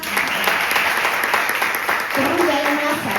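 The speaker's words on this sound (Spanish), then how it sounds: "Un aplauso para este caballero." An audience at an oral storytelling performance claps steadily for a gentleman. A voice speaks briefly over the applause near the end.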